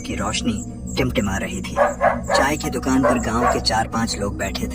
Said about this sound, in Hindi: अरे आज ये कुत्ते इतना क्यों भौंक रहे हैं बे?